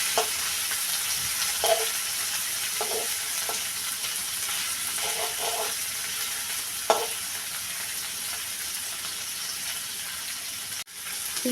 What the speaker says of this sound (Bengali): চিংড়ি মাছ দিয়ে দিলাম, এবার চিংড়ি মাছও ভেজে নিব।